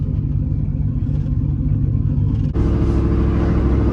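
A slammed, cammed single-cab pickup truck exhaust while driving, a loud low rumbling drone that steps up sharply in intensity midway as the engine pulls harder.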